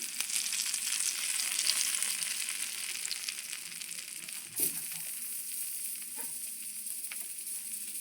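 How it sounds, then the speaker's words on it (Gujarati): Hot tempering with Kashmiri red chilli sizzles after being poured into spinach (palak) khichdi, a steady crackling hiss throughout with a brief clatter midway, fairly close and without talk. "સીધો વઘારામાં રેડી દઈશું ખીચડીમાં"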